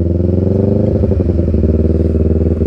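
Yamaha R25 cafe racer motorcycle engine running at a steady idle close by, a continuous low throbbing rumble with a faint clattery texture and no talk over it.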